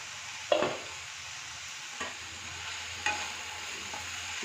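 Broccoli being stirred as it cooks in a pan: a low continuous sizzle broken by three distinct scraping strokes, the first loudest, close up with no talking.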